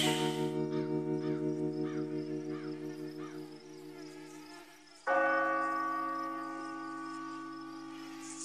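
A church bell in a cartoon tolls in long, ringing strokes, each hum fading slowly before a second loud strike rings out near the end; no one speaks over it.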